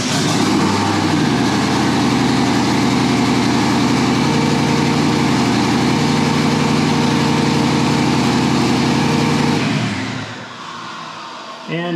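A cold engine runs at a steady, loud idle, a dense continuous drone for about ten seconds before cutting off abruptly and leaving near silence.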